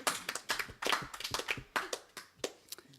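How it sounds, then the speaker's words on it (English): A small audience at a roast claps in sparse, uneven hand claps, close and distinct rather than a full ovation. "So give yourselves a round of applause."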